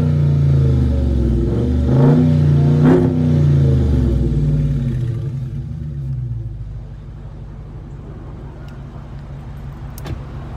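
Two sharp throttle blips from a brand-new 2021 Dodge Charger's 6.4-litre V8 roar up close, each swelling and falling back, before the engine settles into a lower, steadier idle burble.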